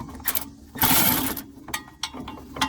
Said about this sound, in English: first I need to start by removing this cover here by taking out these two 10mm bolts